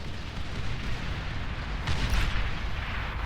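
Explosions from bombers raining down on advanced geothermal structures in the Beyond All Reason strategy game, a continuous dense rumble of booms with a heavier burst near the end, loud and without talk.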